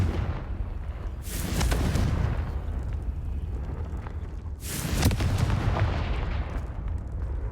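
A Confringo fire-blast spell explodes twice in Hogwarts Legacy, each loud, rumbling burst rising sharply and then rolling away, spaced a few seconds apart over a steady background rumble.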